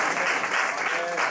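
Church congregation clapping together during a Christmas sermon, a dense steady wash of applause filling the whole moment, with a faint voice underneath.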